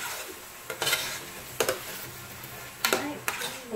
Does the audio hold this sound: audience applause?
no